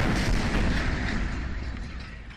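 A Mercedes car blowing up: one dense, loud explosion with a deep rumbling body that rolls on and slowly fades over about two seconds, heard alone.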